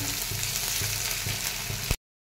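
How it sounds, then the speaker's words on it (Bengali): Chopped onions frying in hot mustard oil with whole spices for a potato and poppy-seed dish, a steady close sizzle with faint stirring that cuts off abruptly. "পেঁয়াজগুলোকে একটু লাড়াচাড়া করে ভালো করে ভেজে নেব"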